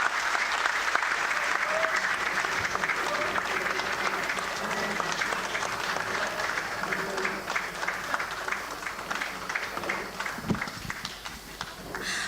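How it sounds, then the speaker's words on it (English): An audience at a broadcasters' convention in Southern Africa applauds steadily for about twelve seconds, a dense, moderately distant wash of clapping with no voices standing out. "I do believe our Honourable Minister deserves another round of applause."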